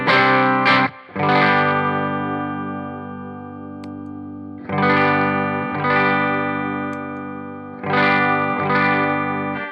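Electric guitar played through a Pro Co Rat distortion pedal in an effects loop, still set fairly clean: loud sustained chords ring out and decay, restruck three times with short gaps between.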